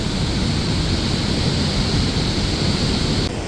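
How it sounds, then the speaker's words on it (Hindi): The Saraswati river near Mana village in the mountains rushes fast and strong, a dense, loud, continuous roar of flowing water heard up close with no voices. "इतना तेज बहाव है ना आज नदी का"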